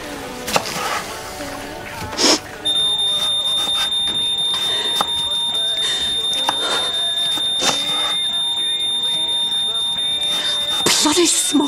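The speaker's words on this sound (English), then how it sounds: "Bloody smoke alarm." A smoke alarm set off by onions cooking in a home kitchen beeps as a sustained high-pitched tone that starts a couple of seconds in and runs to the end, sounding over people talking and household clatter.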